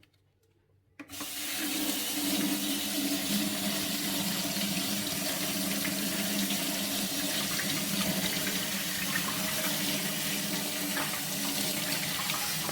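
Tap water runs steadily into a sink as unwashed store-bought strawberries are rinsed, a continuous close hiss and splash that starts abruptly after a brief quiet moment and carries on alone.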